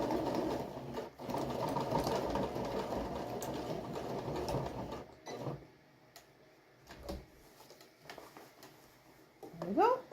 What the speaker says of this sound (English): I just put it down and then stitch on top